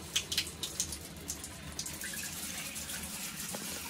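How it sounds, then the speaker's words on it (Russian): A shower runs from an Atmor in Line 5 kW instantaneous water heater, starting with a few drips and splashes that settle into a steady, faint hiss of flowing water. "Ну, теперь давайте откроем душ"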